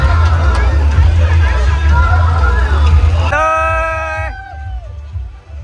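A dense crowd babbles loudly at a resort, many voices overlapping close by. Partway through, a brief burst of high whistle-like tones rises over the din.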